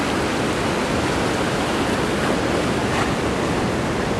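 Ocean surf at Nye Beach on the Oregon coast, a steady, loud broadband roar of breaking waves filling the whole span without pause, close and continuous with no voices.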